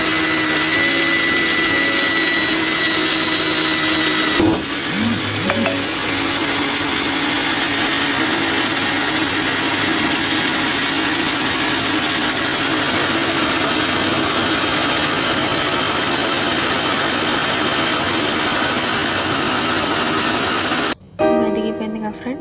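A mixer grinder whirs steadily as it blends soaked oats with water for dosa batter, a loud continuous motor drone that cuts out abruptly near the end, with a voice briefly heard.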